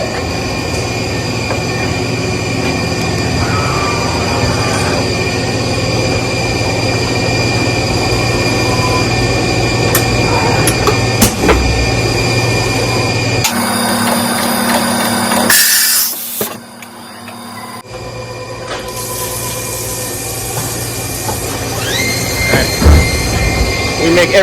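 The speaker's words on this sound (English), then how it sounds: "Drilling and tapping some holes in our vacuum pump bodies and engraving" Mazak mill with a Haas rotary drilling and tapping aluminum vacuum pump bodies, a loud steady machine drone with coolant hiss, sharp clanks, and a brief quieter gap partway through.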